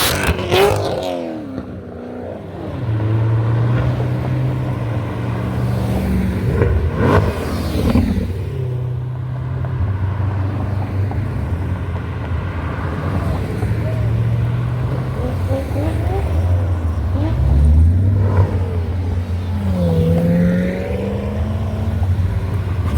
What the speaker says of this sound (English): I expect over 100 cars to come through, folks. C6s, 7s, and 8s.